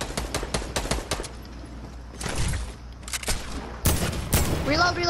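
Gunfire from a Fortnite Creative Mode match: rapid bursts of sharp, nearby shots crackle in quick volleys, with voices joining near the end.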